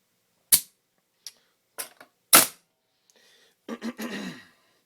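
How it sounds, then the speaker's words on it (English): Hitachi 45AB2 roofing nailer firing nails: sharp, loud pneumatic cracks at irregular intervals, a couple of fainter snaps between, then a short burst of rustling handling noise at the end. "I like to pull the trigger and touch it where I want it to go, and it'll do this all day long."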